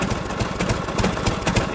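A 1952 Harley-Davidson Panhead motorcycle idling low during routine maintenance, its engine a close, uneven loping chug with irregular pulses and a slightly rough beat.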